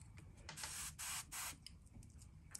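A spray gun hisses paint onto a fishing lure in three short, close bursts of airy spray, with a quieter hiss and faint puffs between them, no talking.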